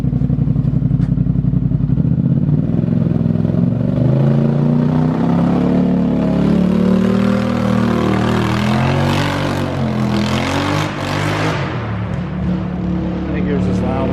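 A 2020 Polaris Sportsman 850 HighLifter ATV fitted with a Big Gun EVO U exhaust idles nearby with a deep, steady low drone that wavers slightly in pitch, while people talk over it.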